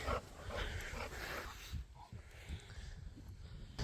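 Dogs moving about a farm dog run, with scattered panting, small whimpers and yips, close by under a steady outdoor noise bed; no clear barking stands out.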